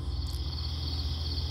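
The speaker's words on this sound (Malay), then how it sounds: "Hang boleh bunyi macam cengkerik apa semua tu." Crickets chirp in a continuous high-pitched trill over a low steady hum, a constant nighttime insect chorus with no voices.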